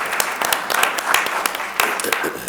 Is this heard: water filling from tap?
no